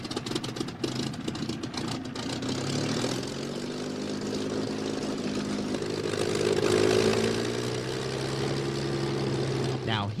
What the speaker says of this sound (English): listen to 1987 Unlimited Gold winner Bill Tiger DeStefani as he starts the engine